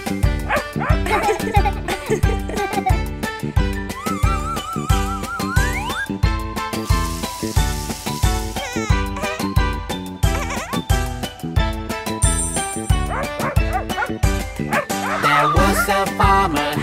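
A cartoon dog yips and barks within a children's farmer-and-dog nursery rhyme, heard over a steady bouncy beat with singing throughout.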